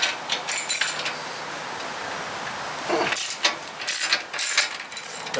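A ratchet with a swivel attachment loosens 13 mm exhaust flange bolts at the cylinder head of an Indian Scout Sixty motorcycle, giving short bursts of metallic clicking in the second half after a quieter stretch.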